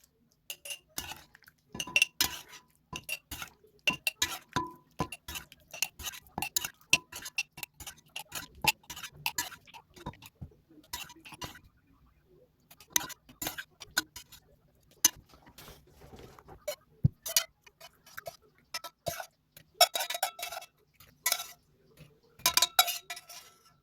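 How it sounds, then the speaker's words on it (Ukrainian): Marinated mushrooms are tipped into a sterilized glass jar, making a run of close, irregular clinks, taps and soft wet slides against the glass, with brief pauses between bursts. "Тепер нам треба їх пересипати у помиту простерилізовану баночку"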